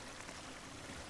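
Water drains down a slow drain in the video game Drain Sim on a farm, a steady, close, broadband rush and trickle that stays level throughout with no pauses.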